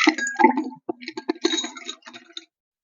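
Ice cubes dropped into a cocktail shaker glass for an orange mocktail, producing a quick run of bright clinks and rattles, close and clear, tapering off after a couple of seconds.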